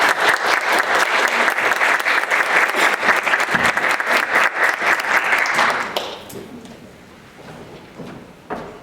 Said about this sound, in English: So let's give him a great big round of applause.